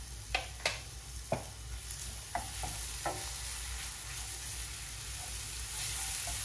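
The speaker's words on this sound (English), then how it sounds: "I'm just gonna go in with some green seasoning in here" Green seasoning made with onions, garlic and peppers sizzles steadily in a hot pan, with a few sharp clinks of a spoon stirring near the start and a constant frying hiss throughout.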